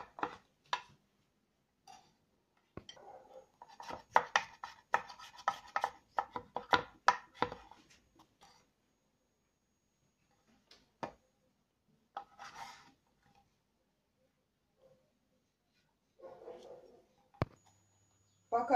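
A knife chops finely through vegetables on a cutting board while sushi rolls are prepared, with rapid rhythmic knocks in bursts and pauses, close and fairly quiet, with no one talking.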